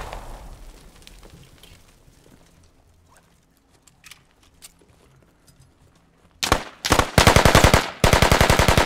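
Automatic gunfire in the tactical shooter game Squad, a quiet stretch of distant shots and rattles giving way to loud, rapid bursts of fire close by that dominate the final seconds.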